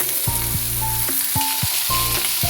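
Ridge gourd frying with tempering spices over medium gas flame, a steady sizzle broken by a few scraping strokes and clattering utensil sounds, close and fairly loud, without speech.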